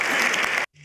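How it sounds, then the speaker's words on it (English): Loud, dense applause from a conference audience fills the room continuously, then cuts off abruptly just before the end. "Un fuerte aplauso para él."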